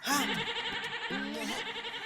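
A lamb bleats in a cartoon barnyard scene: two wavering, rising-and-falling bleats up close, separated by a short pause, with a busy background bed underneath.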